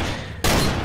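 Gunshots from an online murder-mystery video game: one sudden loud burst strikes partway through and fills the rest of the clip with dense, sustained noise.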